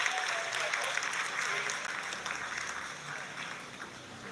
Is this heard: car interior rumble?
no